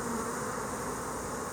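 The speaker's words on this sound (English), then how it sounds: "We're going to shake bees off here" Honey bees buzz steadily at a hive during queen cell work, a dense, even drone throughout with no speech.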